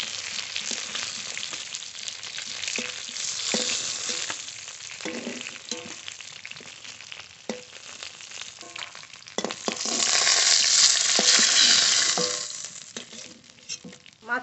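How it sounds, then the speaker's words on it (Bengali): Pieces of catla fish fry in hot oil, a continuous crackling sizzle with scattered pops and a louder burst of hissing midway, close and alone without talk. "এই মাছগুলো খুব ভালো করে ভেজে নিয়েছি, নামিয়ে নেব।"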